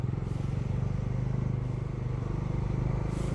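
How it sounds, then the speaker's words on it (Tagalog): A Kawasaki Dominar 400 motorcycle engine runs in slow traffic, giving a steady, rapid low thrum with a rhythmic pulse that stays close and fairly even throughout. "Nagagalit na naman yung makina ni Dominar kasi traffic."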